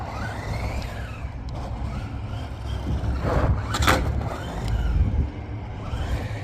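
An Arrma Granite 4x4 RC truck without a wheelie bar drives and accelerates, its electric motor whining and rising in bursts with tire scrabble, the runs swelling nearer and louder twice before easing off.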